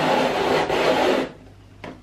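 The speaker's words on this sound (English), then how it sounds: "My peaches are frozen and all of the sugar juice that they were sat in has stuck them together. We're grating." Frozen peaches stuck together with sugary juice are grated, producing close, loud, rasping scrapes in two long strokes followed by a short final scrape.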